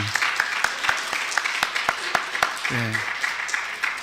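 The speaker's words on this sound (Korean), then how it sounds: "우리 찬양대 한번 축복의 박수를 올려드립시다" A church congregation claps for the choir in a warm burst of applause, steady and fairly loud, with a voice speaking over it and a short musical tone near the end.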